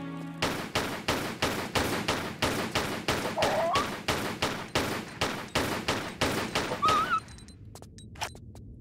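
Rapid, evenly spaced gunshots ring out close and loud in Tomb Raider: The Last Revelation, about twenty cracks in steady rhythm over seven seconds, then stop, leaving a quiet room with a faint thump.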